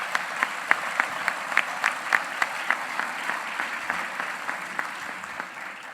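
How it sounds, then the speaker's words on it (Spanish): Audience applause at a museum catalogue presentation in Cártama, a small group clapping in a rhythmic, evenly spaced pattern that gradually thins out. "Por favor, un aplauso para ellos."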